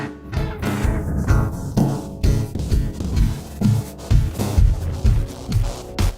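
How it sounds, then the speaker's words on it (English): JMG Sound's Transmutator plugin blends two inputs in its spectral morph mode, giving a dense, loud, pulsing mix with a steady beat, smeared tonal layers and swooping bright textures, with no voices. "Morph uses a spectral algorithm to blend the inputs."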